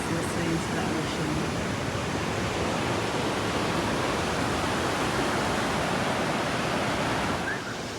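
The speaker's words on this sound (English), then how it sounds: "Chilling, listening to the waves." Ocean surf rolling onto the beach at Port Aransas, Texas, a steady, loud, broadband wash of breaking waves filling the whole stretch without pause.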